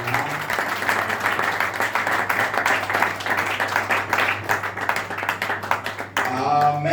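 Church congregation applauding, a steady loud patter of many hands clapping for several seconds, then cutting off abruptly as a voice begins.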